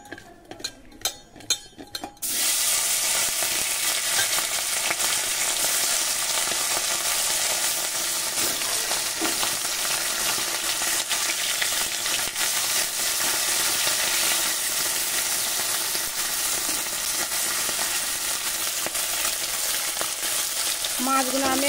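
Fish pieces rubbed with salt and turmeric, frying in oil: a few clinks of utensils, then a loud, dense sizzle bursts in and holds steady at close range to the end.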